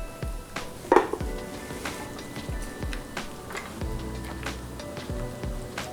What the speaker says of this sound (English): I'm just going to crush them by hand.